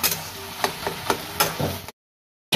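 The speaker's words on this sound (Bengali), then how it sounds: "এবার ভালো করে নেড়ে নিচ্ছি, ভালো করে থকথক করে নিয়ে নিচ্ছি" Spatula stirring fried ash gourd with lentil dumplings in a pan, a few soft scraping strokes over a light sizzle, then a brief cut to silence.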